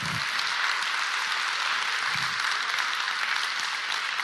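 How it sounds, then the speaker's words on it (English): A large crowd at a smartphone launch event applauds the team in a broad, continuous wash of clapping, loud and unbroken throughout. "give one last round of applause to our team back there and our team back in HQ"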